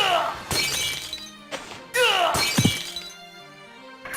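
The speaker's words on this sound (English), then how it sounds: "as soon as he hits something solid, the ice is shattering" Ice shatters on impact in a hacked Castlevania: Symphony of the Night, two loud glassy crash bursts with ringing tails, the second followed by a heavy thunk, over game sounds.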